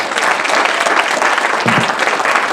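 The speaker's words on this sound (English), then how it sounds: "can we get a huge round of applause for our panelists?" A large audience gives a loud, dense round of applause for panelists at a film summit, steady and continuous throughout.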